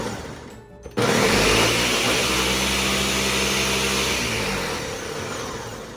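A kitchen blender pulses through frozen banana chunks, its motor starting abruptly with a loud grinding whir that holds steady for several seconds and then eases slightly in pitch.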